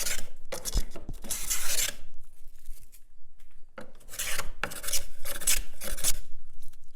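A hand plane shaves saw marks off wooden boat planks for a river boat, making repeated rasping strokes in two bursts of several close, steady passes with brief pauses between.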